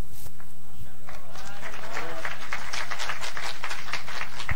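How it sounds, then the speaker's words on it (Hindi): Audience applause at a motivational speech, a dense patter of clapping hands that builds and carries steadily to the end over a low hum. "आपके लिए जबरदस्त तालियां"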